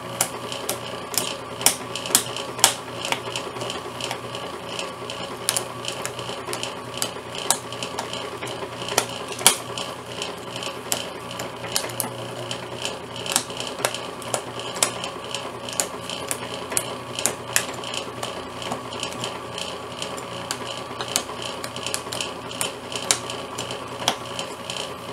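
A homemade plastic shredder chews a recycled plastic bottle, giving a steady mechanical whir marked by a constant run of sharp crunching clicks and snaps that carries on without a break.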